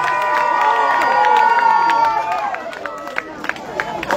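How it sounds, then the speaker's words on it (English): Crowd cheering and shouting at a polka family band show at Seven Springs, loud overlapping voices and whoops, fading into scattered claps and chatter. "give Jacob a nice round of applause"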